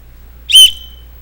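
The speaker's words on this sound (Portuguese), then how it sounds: "Eu trouxe apito." A single short, shrill whistle blast rings out loud and close for about a fifth of a second, alone against a quiet room hum.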